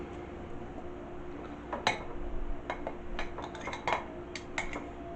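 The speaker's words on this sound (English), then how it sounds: "I'm going to put them in this bowl" Softened chiles being moved into a bowl for chile rellenos, with soft clinks and taps of dishes and utensils scattered over a steady kitchen background hum.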